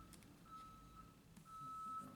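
A reversing truck sounds outside: a thin, steady alarm beeping in two long stretches, faint and at a distance, over a low background rumble.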